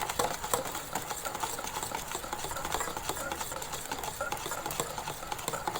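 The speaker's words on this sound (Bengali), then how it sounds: "আর একটু হ্যান্ড উইচ দিয়ে ভালো করে ফেটিয়ে নেব।" A hand whisk beating eggs and sugar in a bowl, made while baking at home, gives a fast, steady, continuous rattle of ticking strokes that runs unbroken and fairly close, with no voices.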